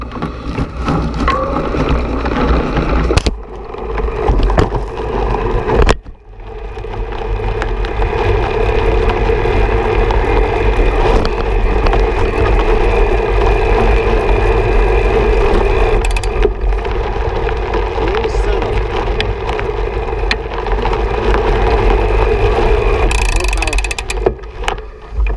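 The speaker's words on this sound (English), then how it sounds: "this is the Broza S motor. I'm in actually the second to lowest gear" A Brose S electric mountain-bike motor runs at its highest assist level in a low gear, producing a steady, loud mechanical whir with wind and trail noise and a few abrupt bumps, while a rider talks over it.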